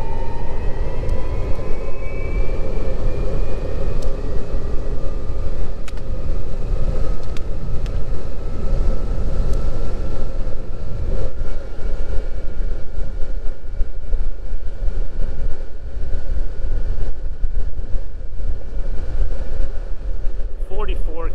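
A DIY 3400 W electric skateboard, a Boosted Board clone, riding at speed: loud continuous motor whine with rising and falling tones over rough wheel and road rumble, sustained throughout.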